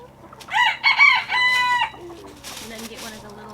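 A rooster gives one loud, close cock-a-doodle-doo, and softer clucking from a small flock of chickens follows right after.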